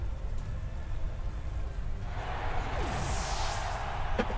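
Steady hiss of rain in the video game Pokemon Sword and Shield, joined midway by a brighter wash of sound and sweeping whooshes, with no talk.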